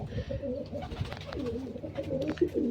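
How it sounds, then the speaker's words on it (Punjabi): Pigeons coo steadily and close by, soft throaty warbling calls overlapping one another with a low rumbling background. "ਬਹੁਤ ਚੰਗੇ ਕਬੂਤਰ ਹੈ ਇਹ"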